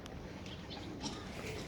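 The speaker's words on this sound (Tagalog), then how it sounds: "Yan, daming kalapati" Pigeons cooing nearby, soft low coos over a steady outdoor background with no talk.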